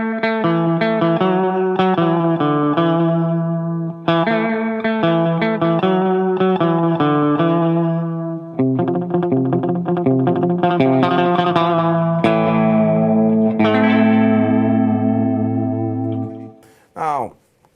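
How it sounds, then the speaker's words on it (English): A Line 6 James Tyler Variax electric guitar modeling a Strat bridge pickup through tape echo, playing loud, bright sustained chords and single notes with repeating echoes, ending in a short fading strum. "Now, that's a Strat in the bridge position, and I put a little tape echo on that"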